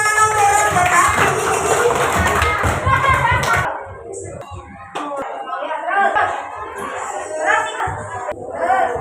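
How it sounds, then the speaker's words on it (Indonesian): Children in a classroom clapping for a fire robot during a coding lesson, a burst of close, dense applause for a few seconds followed by scattered claps under an adult's voice and chatter. "Kasih tepuk tangan untuk robot api."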